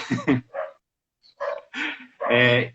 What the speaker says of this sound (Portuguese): meu cachorro latindo